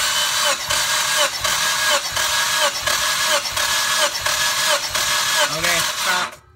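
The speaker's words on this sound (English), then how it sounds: "now we're going to crank the motor" A Mitsubishi Evo X engine cranks over on the starter during a compression test, a fast rhythmic mechanical churning heard up close and loud for several seconds before cutting off.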